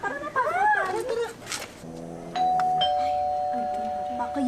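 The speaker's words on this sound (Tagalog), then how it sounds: "Baka yan, may doorbell." Inside a large house, a two-tone doorbell chimes clearly after someone speaks, and a sustained ringing tone lingers as the voices fade out.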